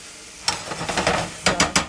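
Mushrooms and onions sauté in a hot pan beside blackened shrimp, a steady close sizzle broken by a few sharp stirring scrapes and clatters over about two seconds.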